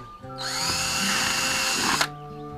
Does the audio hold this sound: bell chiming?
no